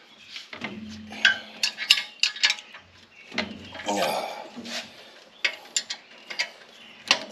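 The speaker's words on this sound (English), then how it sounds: "we're going to have to resort to a wrench" A wrench works on bolts of a Wisconsin Robin engine being rebuilt in a 1989 EZGO Marathon golf cart, giving close, irregular bursts of metallic ratcheting clicks and clanks with brief pauses between them.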